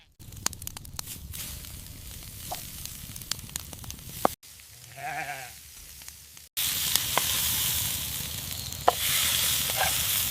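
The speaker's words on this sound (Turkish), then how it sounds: "bugün dünyanın en güzel dana iç bonfilesiyle mangalda et biftek yapacağız" Beef tenderloin steak sizzles on a charcoal grill at a campsite, a fizzing crackle with sharp pops and clicks that breaks off briefly, then returns louder and fuller near the close.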